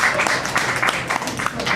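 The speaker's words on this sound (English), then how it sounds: "y'all want to clap for me?" A comedy club audience at Green Bar breaks into applause for a stand-up comedian, a lively burst of many hands clapping close by, steady and unbroken for nearly two seconds.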